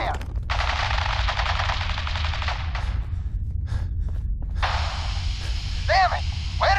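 Fallout 4 gunfight with two long bursts of rapid automatic gunfire, loud and close, separated by a short gap with scattered single shots.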